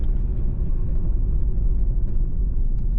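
Interior of a 25-year-old Ford Focus driving along, a steady low rumble of engine and road noise filling the cabin, constant and fairly loud with no talking.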